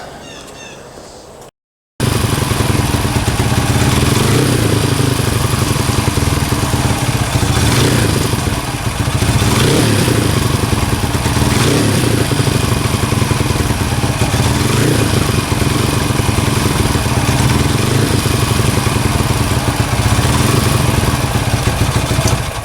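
A Kawasaki KLX 140 dirt bike with a big bore kit idles while warming up, loud and close, a steady rough putter with slight periodic surges after a brief quiet gap at the start, no talking.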